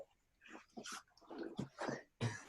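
A dog whines and snuffles close by in a quiet room: a few uneven, breathy whimpers and snorts in short bursts, fairly soft, with no people talking over them.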